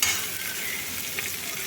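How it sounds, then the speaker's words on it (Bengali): Onions fry in a pan with a steady, close, broadband sizzle and faint stirring, heard alone without talk. "পেঁয়াজগুলো ভালো করে ভেজে নিচ্ছি"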